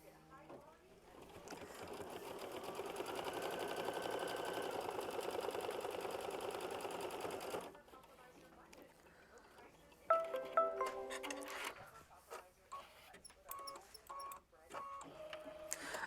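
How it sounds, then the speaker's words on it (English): A sewing machine runs a steady tack stitch across a flip-and-fold flower bouquet quilt block for about seven seconds, then stops, leaving quieter clicks and fabric handling close by. "we're going to tack that down with machine stitch step 10"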